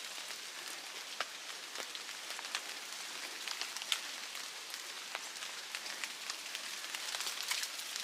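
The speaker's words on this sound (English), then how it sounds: "Some hail's coming down" Hail pattering down on the Appalachian Trail in near-freezing weather, a steady dense hiss of small sharp ticks and taps close around, with no voices.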